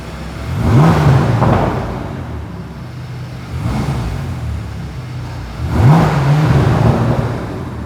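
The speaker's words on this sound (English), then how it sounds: "You think I'll be able to hear the exhaust?" Bentley Continental GT Speed with a 12-cylinder engine rolling along a highway, its deep exhaust rising in three swells of throttle over a steady road and wind roar, with no voices.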